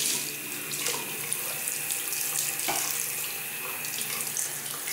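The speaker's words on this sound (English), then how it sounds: "The water flows there." Tap water runs steadily into a bathroom sink or tub during cleaning, a constant close hiss and splash with a few small knocks, no talking.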